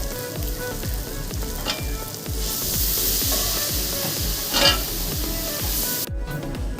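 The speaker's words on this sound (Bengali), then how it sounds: "তড়কাটা ফুটতে শুরু করেছে।" Dhaba-style egg tarka, boiled lentils stirred in with scrambled egg, bubbles and sizzles in a pan with a dense, steady hiss, a rhythmic scraping stir running underneath and a brief lull near the end.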